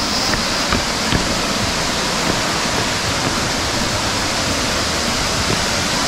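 Cachoeira do Jajá, a waterfall in Morretes, Paraná, gives a loud, steady broadband roar of falling water that runs without pause and without voices.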